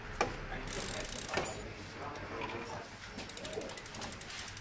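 The freewheel hub of a Giant FCR3300 touring bicycle ratchets with rapid, crisp mechanical clicking, close up and steady, with louder ticks near the start.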